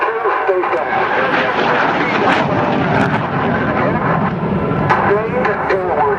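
Loud, constant afterburner roar of a MiG-17 jet engine at an air show, up close, filling the whole clip with rough broadband rumble and a voice speaking underneath.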